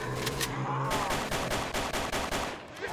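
Rapid automatic gunfire in the Roblox zombie game Lazarus Project, a full magazine emptied in a quick, steady burst of loud, close shots lasting about three seconds.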